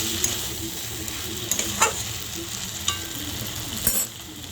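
Green chillies fry in hot oil with kochur loti and prawns, a close, steady sizzle punctuated by several scraping stirs of a spatula in the pan, with no speech.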